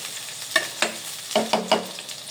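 Garlic frying in a pan for lechon kawali, a soft steady sizzle broken by several louder clattering stirs close by, with no one talking.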